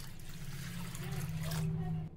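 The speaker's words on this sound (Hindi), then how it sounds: "अब इसमें डाल देंगे पानी।" Water poured into a bowl of washed, soaked rice and lentils while preparing Jharkhand-style dhuska, a steady close trickle and splash lasting about two seconds with a low hum underneath.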